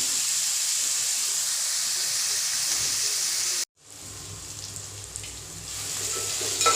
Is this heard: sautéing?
yes